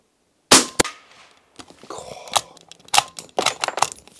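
A suppressed World War II De Lisle carbine fires with a sharp, muffled crack followed by a quick mechanical clack, then scattered metallic clicks and handling noises close by.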